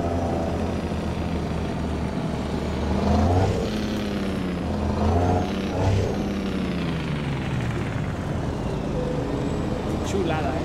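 Road traffic in the video game American Truck Simulator, heard while driving a Kenworth T800 on a mountain route: a constant loud roar of engines and tires, with someone talking over it most of the time.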